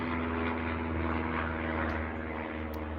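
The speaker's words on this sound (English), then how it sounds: "Wait for the plane overhead." A steady propeller airplane drones overhead, a continuous low engine hum with a constant tone throughout, fairly loud and unbroken.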